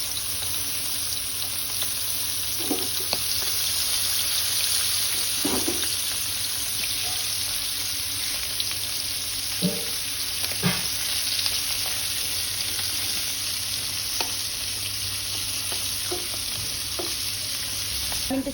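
Pomfret fish frying in a pan gives a steady, close sizzle throughout, with occasional soft clinks and stirring sounds.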